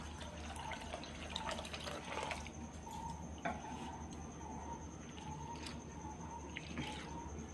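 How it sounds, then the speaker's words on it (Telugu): Urad dal (black gram) being washed in water, with soft, quiet dripping and sloshing splashes repeating irregularly at close range, no voices. "ఈ విధంగా మినపగుండ్లను వాటర్తో కడగాలి"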